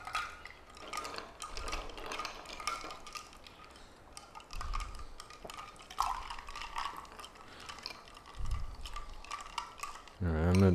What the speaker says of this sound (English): I'm going to continue stirring this vigorously until that ice is gone